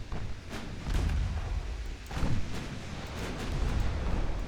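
Heavy shell impacts strike the German cruiser Munich during a naval battle in Ultimate Admiral Dreadnoughts, rendered as dull booming thuds with a big hit near the two-second mark over a continuous low rumble of gunfire.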